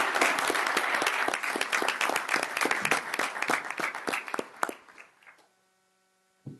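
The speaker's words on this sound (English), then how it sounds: "So if we could give them just a round of applause for their work." Applause from the audience at a school district board meeting, dense and steady for about five seconds before fading out, leaving a low electrical hum and a brief thump near the end.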